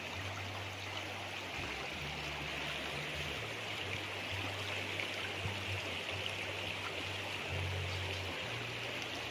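A river on a farm in Nagcarlan, Laguna, running murky after rain, flows steadily with a broad, constant rushing babble, and a faint low hum pulses underneath.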